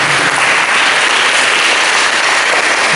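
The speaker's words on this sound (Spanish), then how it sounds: "¿Por qué entonces no le das un aplauso de alabanza?" A church congregation breaks into sustained, loud applause of praise at an evening service, a dense wash of clapping with no pauses.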